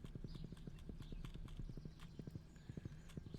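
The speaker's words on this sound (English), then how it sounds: "I don't think I can get over there with my horse." Horse hooves clip-clop in the Stardew Valley video game, a steady, rapid run of crisp close hoofbeats with a faint background melody and no talking.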